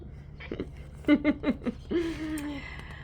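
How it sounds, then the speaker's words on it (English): A bird gives a few short squeaky chirps close by, a quick run of four or five calls followed by a longer drawn-out squeak, over a quiet indoor background hum. "Oh, do you hear that squeaking? Wayne sees a bird."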